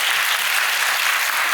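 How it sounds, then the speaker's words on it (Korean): An audience at a residents' briefing on apartment complex redevelopment gives dense, continuous applause. It is loud and steady throughout, with no talking. "큰 박수로 맞으시기 바랍니다."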